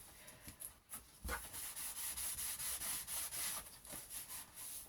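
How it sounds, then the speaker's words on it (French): Glue being spread across a large folio album cover with a brush or spreader, a soft rhythmic scraping and rubbing in repeated strokes, close and quiet with no talk. "je vais pouvoir bien répartir ma colle"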